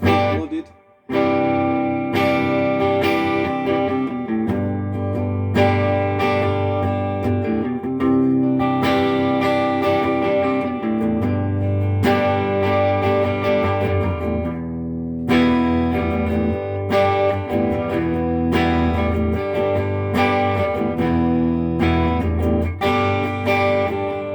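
Sustained Gibson ES-335 electric guitar chords played through a reverb pedal ring out with a bright, spacious reverb tail, strummed repeatedly and played alone without talking.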